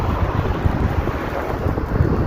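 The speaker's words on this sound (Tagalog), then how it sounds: "Malakas ng ulan." Heavy rain lashes down with gusting wind, a dense, loud, steady roar of rainfall and rough wind buffeting the microphone, with low, rumbling surges that suggest thunder.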